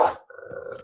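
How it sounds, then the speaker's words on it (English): Dogs at a house give one loud bark, then a low, sustained rumbling growl close by. "you hear those dogs are barking like if you're stealing their food"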